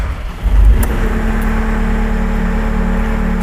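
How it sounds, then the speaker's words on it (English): Wacker Neuson skid steer loader engine running, a loud steady low idle hum with a brief rise at the start, continuous and close without any talk. "At this state, the engine should be running."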